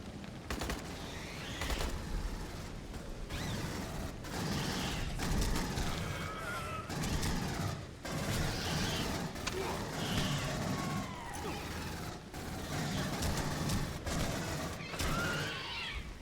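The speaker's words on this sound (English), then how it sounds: "The recoil on this assault rifle is ridiculous." Assault rifle fire from the Aliens: Colonial Marines video game rattles in repeated rapid bursts throughout, loud and dense with brief gaps between volleys.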